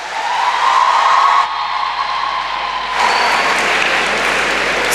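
Sustained applause from an audience at a school inter-house qiraat, naat and declamation competition, loud and continuous throughout with no speech over it.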